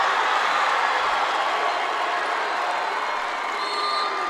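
Fans in a high school gym at a Class B boys regional basketball final cheer and roar loudly and continuously, a thick sustained crowd noise with no pause.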